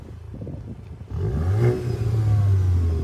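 Volkswagen MK8 GTI engine, rev-limited to about 4,000 RPM, idles quietly then climbs into a loud, sustained rev with a deep, steady drone held close by for the last two seconds.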